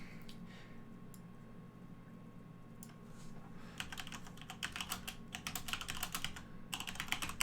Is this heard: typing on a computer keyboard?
yes